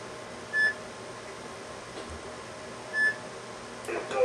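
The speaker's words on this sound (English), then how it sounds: "Now you hear the beeping." A scanning communicator gives two short electronic scan beeps a few seconds apart, clear and close over a faint room hum.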